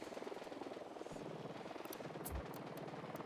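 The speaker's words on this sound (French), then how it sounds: "Attention à l'hélicoptère." Steady rhythmic chopping of a helicopter rotor in the video game Ghost Recon Wildlands, continuous and fairly close, with a few brief clicks and thumps over it.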